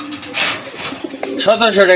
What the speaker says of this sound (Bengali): এটা হচ্ছে নট ডাকতেছে কত সুন্দর